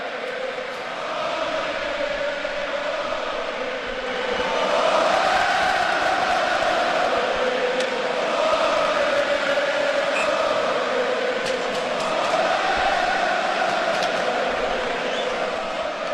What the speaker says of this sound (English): It's been a boisterous crowd all night.